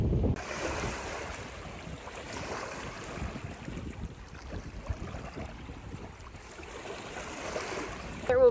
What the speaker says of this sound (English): you've probably been listening to the waves as I've been narrating